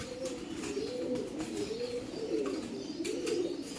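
Pigeons in a pigeon loft coo in soft, repeated rolling calls, close and continuous, with faint rustling and a chirp or two in the background.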